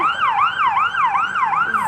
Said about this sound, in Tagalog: Isang araw sa EDSA Kahabaan, ang sasakyan, ang ingay, may nakita akong ambulansya.